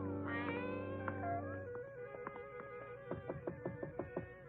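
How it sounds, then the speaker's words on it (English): A gray Persian cat meows near a ranch-type home, first in a long drawn-out cry, then in a run of shorter meows, fairly quiet and with no speech over it. "A gray Persian cat followed us."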